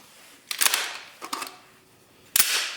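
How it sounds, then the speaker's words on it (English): Three suppressed shots from a 12.5-inch .308 rifle with subsonic ammunition and a Huxwrx Ventum suppressor, each a sharp muffled crack with a short decaying tail, evenly spaced about a second apart and fairly close, no talking. "Shooting subsonic ammo is also pretty fun."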